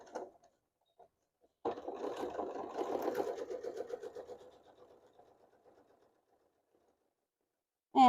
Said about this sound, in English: I'm going to take a couple of joining stitches forward,